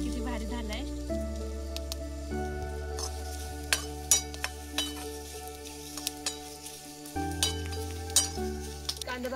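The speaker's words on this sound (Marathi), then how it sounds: "तर आता कांदा भाजून घेते. तर कांदा मी लाल होतो भाजणार आहे." Chopped onion frying and sizzling in a pan on an outdoor hillside cookfire, with steady crackle, occasional clinks of a stirring utensil and faint talk underneath.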